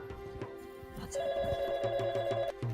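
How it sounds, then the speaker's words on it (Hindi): An old-style telephone bell rings in a steady electronic trill, with a few knocks and household noises around it. "अरे कोई है जो फोन सुन ले, मुआ चिल्लाए जा रहा है कब से।"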